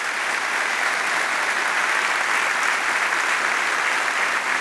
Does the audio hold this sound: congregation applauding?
yes